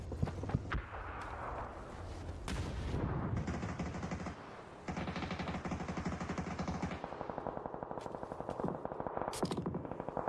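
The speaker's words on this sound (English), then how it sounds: "There's now nades coming through." Grenade blasts and rapid automatic gunfire echo through a battle royale video game match, sustained crackling bursts and booms under a dense continuous mix.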